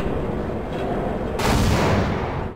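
A grenade explosion erupts in Half-Life 2: Episode Two with a sudden loud burst partway through, over a steady roar of combat noise.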